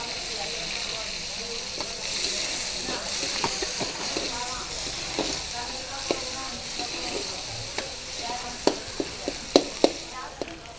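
Tomato, onion and curry leaves fry in a pan for a fish curry, giving a steady close sizzle and hiss with scattered clicks of stirring that sharpen toward the end, with no talk.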